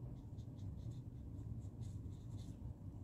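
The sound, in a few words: colouring a paper mouse drawing for a Christmas card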